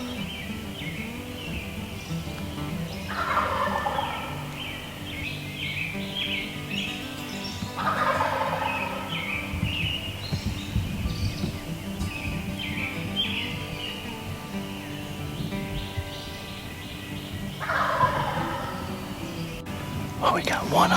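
Several loud, rattling gobbles from a wild turkey on its roost on Michigan public land carry through the woods at a moderate distance, spaced several seconds apart over a steady background hum.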